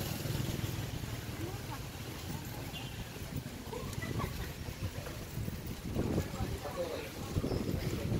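Steady wind rumbles and buffets against the microphone outdoors in Los Baños, Laguna, low and continuous, with a vehicle-like drone beneath and a voice faintly present.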